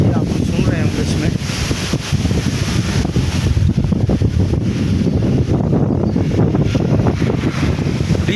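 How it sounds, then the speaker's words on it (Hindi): Steady wind blows along a canal-side road in summer, a loud, continuous broadband rush with gusty buffeting on the microphone throughout. "ये हवा चलना का जो आवाज़ है ये आप सुन रहे होंगे"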